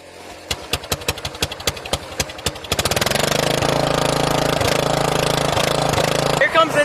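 Small lawn mower engine fitted with a new carburetor: a series of sharp firing pops, then it catches and runs at a steady, loud, even roar, close by.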